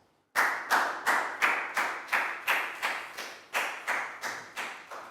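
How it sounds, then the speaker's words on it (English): A Year 4 English class claps in unison for a classmate, giving about a dozen sharp, evenly spaced group claps, each ringing briefly in the room, after a short silence at the start. "Big round of applause for Pat, please, guys."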